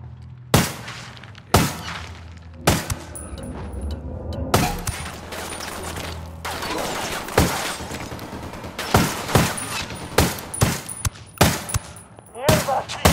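An enemy machine-gun turret firing in the tactical shooter Ghost Recon Wildlands, with sharp, loud bursts and single cracks spread across the span, some close together, over a low background rumble.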